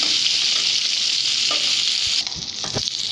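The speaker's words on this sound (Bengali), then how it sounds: "এইভাবে দুই পাশে ভাজবো মানে বেশি কড়া ভাজা যাবে না" Koi fish fry in a pan for a curry, a steady broadband sizzle with a few soft stirring scrapes and clinks toward the end, close and unbroken, with no voices.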